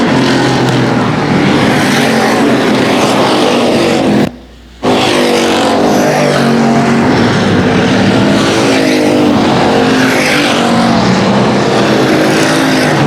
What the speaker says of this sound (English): Weston Abbey was actually your stock car feature winner